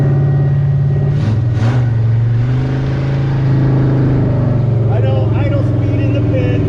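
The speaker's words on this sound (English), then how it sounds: "Idle speed in the pits." A Jeep tough truck engine idling in the pits at a tough truck race in Manti, Utah, a loud steady rumble with pitch shifts and a brief blip, a voice speaking over it partway.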